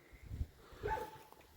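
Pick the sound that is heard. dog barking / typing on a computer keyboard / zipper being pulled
dog barking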